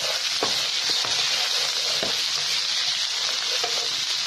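Ginger and garlic paste fry in a hot pan with a loud, steady hiss, broken by a few soft scrapes of stirring, and no one speaking.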